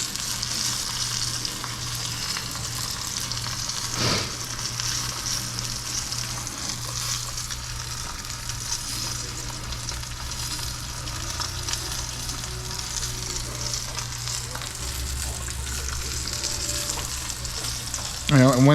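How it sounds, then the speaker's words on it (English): A tomahawk steak sears in a hot pan with a steady, loud, close sizzle that continues unbroken, with a faint low hum underneath and no talking. "Now you want to sear for a good, I'd say at least 2 minutes on each side"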